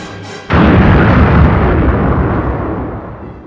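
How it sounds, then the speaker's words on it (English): A huge Death Star explosion with expanding shockwave rings from the Star Wars Special Edition, a sudden massive boom at about half a second that rolls into a dense, sustained roar slowly fading over a few seconds. "In 2nd place, we have the explosion rings."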